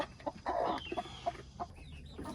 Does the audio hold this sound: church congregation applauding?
no